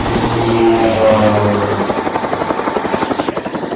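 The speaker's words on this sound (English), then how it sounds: "last helicopter ride of the season, me" A helicopter's loud, steady rotor chop and engine whine fill the clip, with rhythmic blade thumping growing more distinct toward the end.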